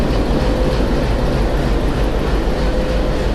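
A loud, steady rumble of a train engine idling at Rajbari railway station, with a constant low drone and a faint tonal hum running throughout, no voices.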